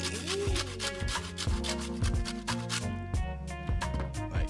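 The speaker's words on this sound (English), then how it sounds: "And then I got a little lemon here. We're gonna put a little zest in here." A lemon is rubbed against a grater for zest, making repeated rhythmic rasping strokes, close and moderately loud, with no talking.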